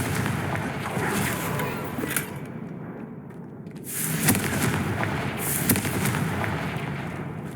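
Confringo blasting spell explosions in the Hogwarts Legacy video game, a loud rumbling barrage of booms and crackling blasts with a brief lull before another swell.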